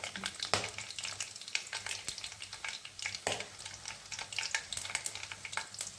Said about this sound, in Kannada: ಸಾಸಿವೆ ಸಿಕ್ಕ ನಂತರ ಚಕ್ಕೆ ಲವಂಗ, ಎರಡು ಒಣಮೆಣಸಿನ್ಕಾಯಿ